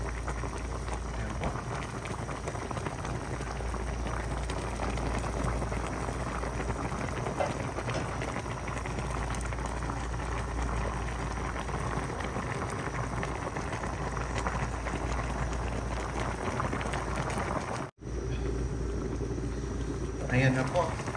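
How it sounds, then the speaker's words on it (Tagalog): Sinigang na bangus, a sour milkfish soup with pechay and onion leaves, boils steadily in a pot, giving a continuous bubbling hiss that carries on without pause until a brief cut near the end. "Ayan, kumukulo na po."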